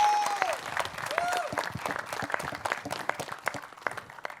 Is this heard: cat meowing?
no